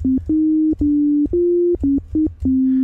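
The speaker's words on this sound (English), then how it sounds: "just a single sine wave oscillator directly driving our VCA" A pure electronic sine tone from a single sine wave oscillator on a modular synth, played as a sequence of short notes at slightly different pitches, clean and steady, with brief gaps between each note.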